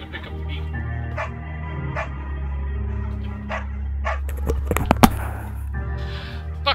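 A beagle in the video game Firewatch gives several short, close barks and yips at irregular intervals over a steady low background drone.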